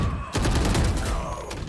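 Gunshots in the Valorant shooter game, a quick burst of several sharp cracks in close succession, loud and near.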